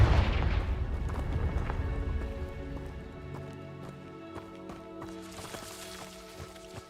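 Confringo explosive spell in Hogwarts Legacy bursts with a deep, loud boom that rumbles and fades over several seconds, followed by lighter crackling and a soft game music bed.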